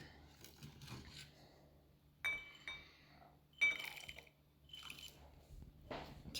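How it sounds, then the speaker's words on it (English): Raisins poured from a bowl into a glass of water, giving a few light clinks of glass and soft splashy patters in separate bursts, close by and fairly quiet. "Julie Ann, can you take the bowl of raisins, please, and pour them into the glass of water?"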